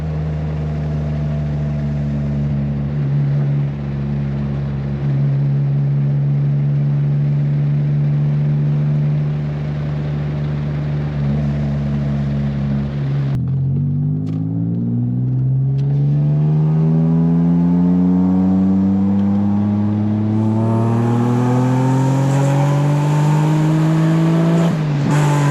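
A Dodge Stealth R/T with a full performance exhaust idles with a loud, deep rumble, then revs up, the pitch sweeping upward and holding at a high, roaring level, close and with no voices.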